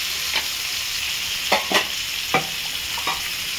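Spices with turmeric powder fry in a pan over a lowered gas flame, giving a continuous soft sizzle with a few distinct scrapes and knocks of a spoon stirring; close, no speech.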